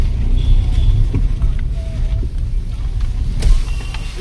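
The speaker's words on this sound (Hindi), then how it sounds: "हमने गाड़ी मोड़ ली है और" A car turns around in traffic on a hill road and drives back, heard from inside as a steady engine hum and road rumble with faint clicks and small creaks.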